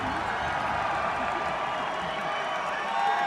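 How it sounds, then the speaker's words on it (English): Packed comedy club crowd cheering and roaring for comedian Andrew Santino, a steady dense wall of voices and applause sustained throughout, loud and close with no single voice standing out. "Look at the cheer from the crowd. Everyone's going crazy."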